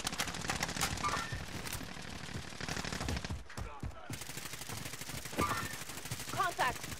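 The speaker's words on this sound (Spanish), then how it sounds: "¿Quién está disparando?" Rapid automatic gunfire and scattered shots from a Warzone squad match rattle through most of the stretch, dense and loud, dipping briefly before bursting again, with a voice talking faintly underneath.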